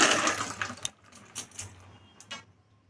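Water runs from a tap while a child's mouth is rinsed after tooth brushing, a loud splashing burst at the start that fades into intermittent softer trickles and splashes.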